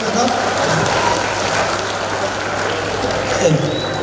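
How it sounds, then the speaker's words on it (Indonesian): An audience at a community seminar applauds a speaker with a steady, dense wash of clapping that holds evenly for several seconds, broad and continuous like rain. "Sekali lagi buat tepuk tangan yang meriah Bapak Gatot"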